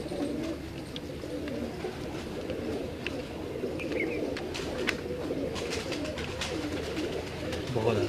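Domestic pigeons in a keeper's loft cooing softly and steadily against a continuous bed of low murmuring and rustling, with faint chirps scattered through.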